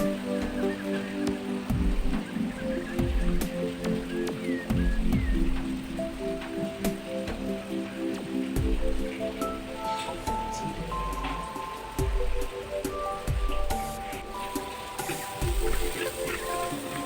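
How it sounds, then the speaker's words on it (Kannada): Heavy evening rain pours steadily outside a kitchen where chicken curry cooks over a stove, a dense patter with scattered nearby drips and knocks running throughout, at moderate loudness. "ತುಂಬ ಜೋರಾಗಿ ಮಳೆ ಸುರಿತಾ ಇದೆ."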